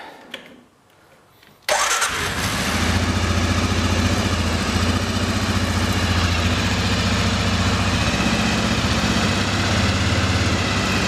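A 2005 Arctic Cat ATV engine cranks and catches after a brief quiet moment, then settles into a steady, loud, close idle that runs without a break.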